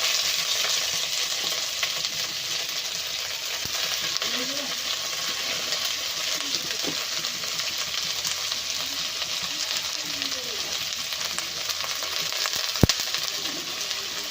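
Cabbage frying with onion and green chili for a noodle dish, giving a steady, close sizzle with the occasional scrape of a stirring spoon against the pan throughout.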